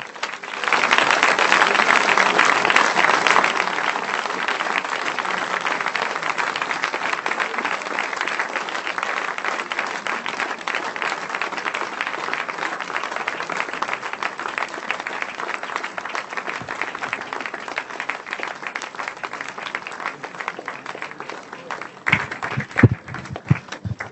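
A church congregation breaks into loud, sustained applause and acclaim that stays fairly even throughout, thinning slightly toward the end.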